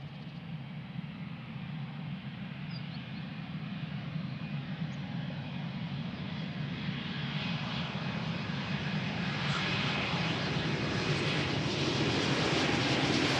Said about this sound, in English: Just listen how quiet that airplane is.